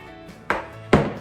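Sourdough bread dough is worked in a bowl, giving two heavy, soft slapping thuds spaced about half a second apart, close and fairly loud.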